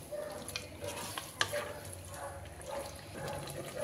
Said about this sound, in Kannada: ಚೆನ್ನಾಗಿ ಎಣ್ಣೆಲಿ ಫ್ರೈ ಮಾಡ್ಕೋಬೇಕು, ಎಣ್ಣೆ ಎಲ್ಲ ತೇಲ್ ಬರೋವರೆಗೂ ಚೆನ್ನಾಗಿ ಫ್ರೈ ಮಾಡ್ಕೋಬೇಕು